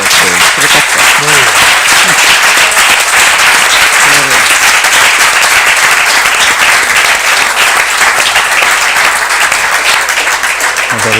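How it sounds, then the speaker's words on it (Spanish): An audience at a presentation in the Koldo Mitxelena hall in Donostia gives loud, dense applause that stays steady and unbroken for about eleven seconds, with many hands clapping at once and no clear speech on top. "ratificar o corroborar con un caluroso aplauso"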